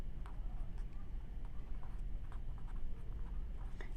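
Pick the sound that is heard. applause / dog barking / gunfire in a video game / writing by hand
writing by hand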